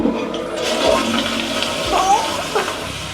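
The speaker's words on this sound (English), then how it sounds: "let's do the flush test" A toilet flushing in a studio bathroom at Disney's Grand Californian Hotel and Spa, a steady rushing swirl of water for about three seconds, close and loud, with faint voices underneath.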